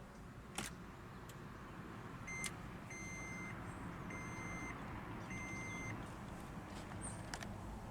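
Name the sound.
2012 Toyota Prius v hybrid push-button start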